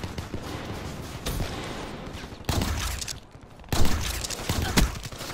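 Loud bursts of rapid gunfire in a Call of Duty video game, in dense, uneven volleys, with a couple of sharp louder shots near the end.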